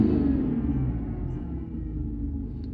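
A car engine gives a deep, close rumble as it revs, holding a heavy low tone before slowly easing off.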